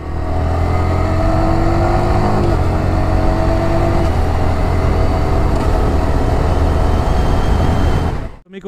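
Yamaha R15M motorcycle with a quick shifter, its engine droning loud and close at a steady pitch, with brief steps in tone as gears change, then cutting off abruptly at the end.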